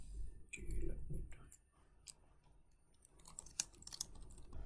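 Soft, irregular clicks of typing on a computer keyboard, close and quiet, with a few sharper keystrokes near the end.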